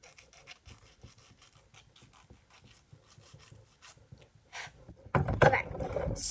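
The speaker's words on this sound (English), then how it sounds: "we're going to start by filing off my nails." A nail file rasps across fingernails in quick, soft strokes, faint and close, with a louder burst of scraping toward the end.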